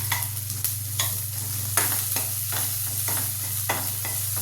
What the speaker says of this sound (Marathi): चांगलं भाजल्यानंतर लसण जिऱ्याची पेस्ट टाकायची